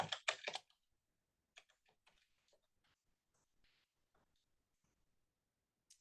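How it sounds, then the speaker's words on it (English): Typing on a computer keyboard, with a quick cluster of louder clicks at the start, then scattered, quieter keystrokes spread across the following seconds in an otherwise quiet room. "Let's see if I can actually type it in"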